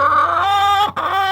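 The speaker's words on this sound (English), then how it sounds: "we have 2 hens fighting for the nest" Two hens fighting over a nest cluck and squawk loudly at close range in drawn-out, harmonic calls, with a brief gap before another call.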